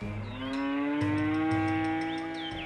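A cow's long, sustained moo sounds close and loud for nearly three seconds, a steady low tone held without a break, with faint chirps in the background.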